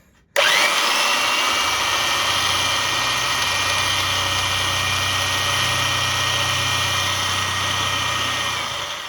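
A power drill starts abruptly and bores into brick, holding a loud, steady grinding whine with a low rumbling hum for several seconds without pause.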